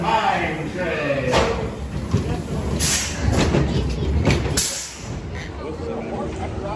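Old-school Arrow mine train roller coaster at Six Flags St. Louis, a steady rumbling ride with rattling wheels and bursts of wind noise and rider screams, loud and close throughout, with voices mixed in.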